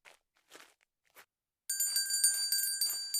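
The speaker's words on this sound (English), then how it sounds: "there's a bell here too" A bell in the video game Atama rings with a bright, sustained metallic tone and a few repeated strikes, following quiet footsteps or shuffling sounds.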